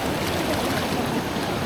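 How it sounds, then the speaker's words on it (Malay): Fast-flowing river water sliding over flat, smooth rocks at a family campsite in Ulu Kongsor, a dense, steady rushing wash that stays loud and close throughout with no break. "Woi, laju air, laju."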